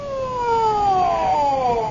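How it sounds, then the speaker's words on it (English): An ambulance siren wailing loud and close, a steady sweeping tone that glides downward as the vehicle passes. "What's the ambulance for?"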